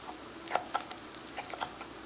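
Chopped peppers fry in olive oil in a pan, giving a low steady sizzle broken by a few sharp pops and crackles. Nobody talks.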